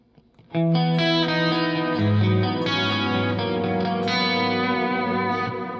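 A processed electric guitar strums sustained chords with a bright, scooped, effects-laden tone and light echo, steady and loud with no voices.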